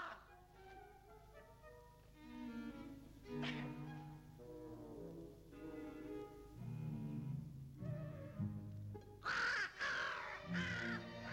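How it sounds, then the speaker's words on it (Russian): A crow caws several times, faint and at a distance, over an orchestral film score in an old 1958 Soviet fairy-tale film, with no speech. "Я сейчас отправлю за ней мою почтовую ворону."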